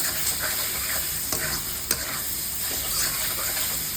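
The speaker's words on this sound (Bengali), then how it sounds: "আলুগুলো দিয়ে আমি একটু ভাজা ভাজা করে নেব।" Potatoes frying in a pan for a Bengali vegetarian meal of taro greens, a steady close sizzle running throughout with occasional soft stirring scrapes.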